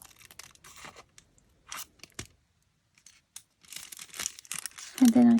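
Scissors snip through a paper envelope in a few short, sparse crinkly cuts with quiet pauses between them, close and fairly soft, with a brief voice near the end.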